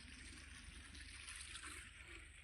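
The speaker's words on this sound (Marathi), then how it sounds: "पाणी चालू झालंय बघा" Irrigation water flows steadily through a farm field's planted beds, a continuous close trickling and rushing wash with no pauses.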